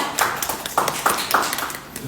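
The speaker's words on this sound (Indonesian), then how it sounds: "Boleh berikan tepuk tangan dulu untuk semua." Brief scattered applause from an event audience at a waste utilization forum, a few separate claps and pats in a short, thin burst, moderately near and without talk.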